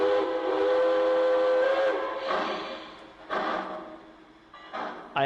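A Lionel model locomotive of late 1930s–early 1940s style sounds a loud, sustained steam-type whistle, then lets out several shorter blasts separated by brief gaps, with no talking.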